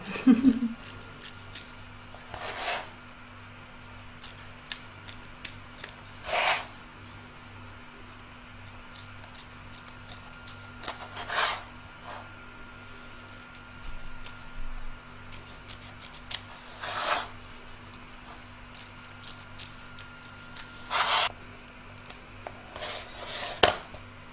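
Scissors snip to trim excess material around a small owl hair barrette, with sparse, separate cuts spaced several seconds apart over a quiet background hum, up close.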